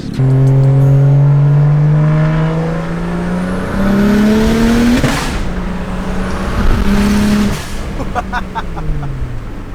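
A BMW 335i with an N54 engine and single turbo kit pulls hard on a dyno, its loud droning note climbing steadily in pitch through a short-shifted gear change, then rising again until a sudden drop-off.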